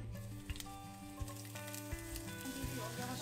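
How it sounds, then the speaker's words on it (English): Eggplants frying in olive oil in a pan give a quiet, steady sizzle with faint spatter, crackle and a few soft thumps. "The eggplants tend to soak the oil while frying, so drizzle some in every batch while frying."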